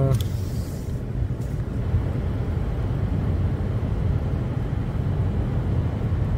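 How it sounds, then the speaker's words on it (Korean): Cars pass on a road up above a steep cut slope beside forested land in Yangpyeong, a continuous low rumble of traffic that stays steady and fairly loud for the whole stretch. "여기 저 위에 그 차들이 지나는 소음이 여기 아주 그대로 다"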